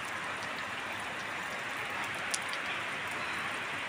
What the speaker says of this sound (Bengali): বৃষ্টিটা যেভাবে নেমেছে মনে হচ্ছে না থাকবে